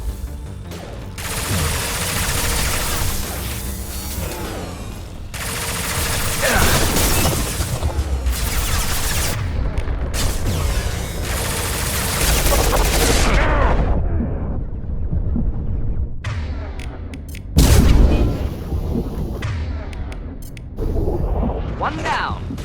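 Sustained gunfire and explosive blasts in the Mass Effect 2 video game, a dense, loud barrage of shots and booms with brief lulls, combat voices mixed in.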